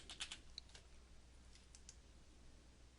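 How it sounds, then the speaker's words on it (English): Someone types a search term on a computer keyboard: a quick, faint cluster of key clicks, followed by a few scattered taps in a quiet room. "In this case, we'll type in shoulder"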